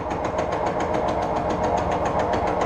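Single-point tool taking a fine 1.5 mil cut on a gear in a home workshop: a steady, loud mechanical whir with regular rapid knocking pulses throughout.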